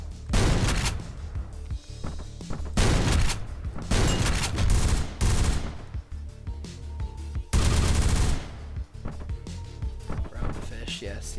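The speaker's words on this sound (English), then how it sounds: "Pistol in close quarters is fun though because it's got a really low rate of fire." Handgun fire in a first-person shooter set in close quarters, the unsuppressed pistol firing in bursts of several loud, sharp shots with short gaps between them, while someone talks over the shooting.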